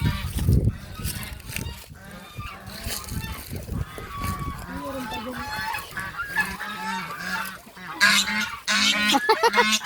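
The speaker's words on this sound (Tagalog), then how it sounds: "Lalaki ng ganso." Goose honking loudly and close, a series of repeated nasal honks that grow more frequent toward the end, with brief faint speech early on.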